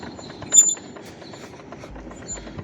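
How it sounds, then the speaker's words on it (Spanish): A DeWalt 735 thickness planer head is cranked down, giving a run of small ratcheting mechanical clicks with one sharper clack near the start, close and fairly quiet, with no talking. "Entonces voy a bajar el cepillo."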